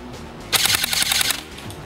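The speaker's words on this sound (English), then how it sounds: "Let's do a rate of fire test." A&K SPR-L airsoft electric rifle firing a rapid full-auto burst of under a second, a fast buzzing rattle that starts abruptly and cuts off cleanly, close and loud, no talk.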